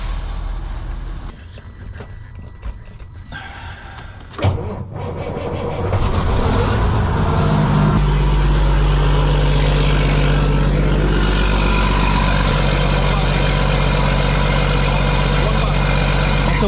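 A glider kit truck's diesel engine cold-starts with a sudden burst, then settles into a loud, steady, rumbling idle; a person talks briefly before the start.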